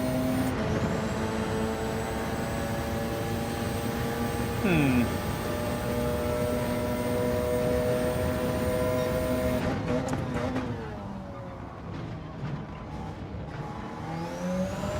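Porsche race car in Gran Turismo 7 at Monza, its engine holding a steady high drone with a brief pitch sweep midway, then dropping off as it lifts near the end.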